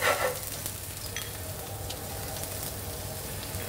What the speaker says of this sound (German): wir nehmen ein bisschen Butter, Knoblauch und Salaten erstmal anschwenken